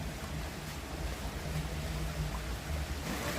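Fountain water running in the Alhambra gardens gives a continuous, even rushing wash, fairly distant and steady throughout, with no voices.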